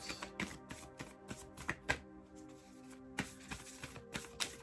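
Tarot cards shuffled by hand in a quiet room, giving a soft, irregular run of papery riffles and taps, some louder flicks standing out, faint and close with no talking.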